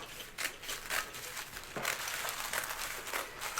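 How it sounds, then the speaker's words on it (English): Sharp Fiskars fabric scissors slice through sheets of tissue paper for cheerleader pom poms, making a steady run of crisp, close crinkling snips at an even rhythm. "I have a pair of Fiskars. These are actually fabric scissors"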